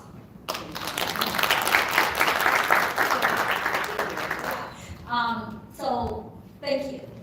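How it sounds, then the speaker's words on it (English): Audience applause fills a Detroit China Day community event, a steady wash of clapping for several seconds before it fades and a voice begins speaking over the quiet room. "give Carol another round of applause"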